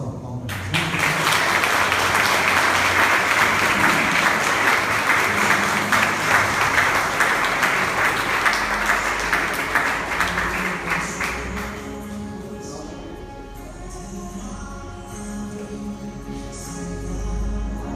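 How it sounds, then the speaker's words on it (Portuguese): A church congregation at a Yom Kippur service breaks into loud, sustained applause that holds steady for about ten seconds and then tapers off, leaving a quieter tail of room sound. "Vamos dar uma salva de palmas para Jesus."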